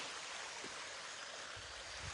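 Steady, soft rushing of a mountain stream on a tea estate in India, a continuous broadband wash with no voices.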